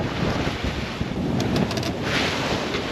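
A sailboat under full sail pushes through wind and waves, with heavy wind roar on the microphone and constant rushing water close by, without speech.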